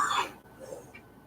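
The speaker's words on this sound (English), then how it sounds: "I'm going to cough again" A single short cough close to the microphone, followed by a soft breathy throat sound and quiet room noise.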